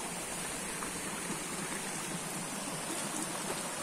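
The Kamenski stream, which runs down from below Čirča hill, gives a steady, dense rush of flowing water close by, unbroken and with no voices.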